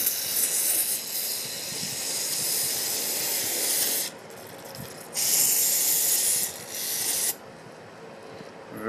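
Carb cleaner sprays in bursts into the passages of a Rochester Quadrajet 4MV carburetor during a rebuild, loud close hissing blasts separated by short quieter gaps.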